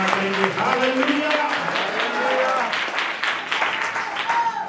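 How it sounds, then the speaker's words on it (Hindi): Applause fills a church service, a dense steady clapping from the congregation with voices shouting over it, sustained and close throughout. "जोरदार ताली बजाकर हमारे प्रभु की महिमा करेंगे"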